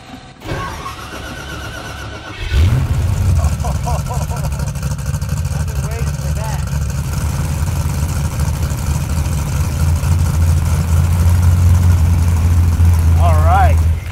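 A small block Ford V8 with a Terminator X fuel injection system, MSD Pro 600 distributor and cam sync cranks briefly, fires up and settles into a loud, steady, lumpy idle close by. Faint voices come through near the end.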